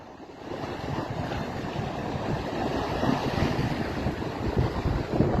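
Choppy river waves slap and rush against a fishing boat while gusty wind buffets the microphone, a continuous wash that swells slightly louder toward the end, with no one speaking.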